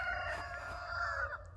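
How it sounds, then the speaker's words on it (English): Roosters crowing next door on a suburban property, a drawn-out cock-a-doodle-doo call near and fairly loud over a steady low background hum, with no talking. "apparently there's some chickens right next door here"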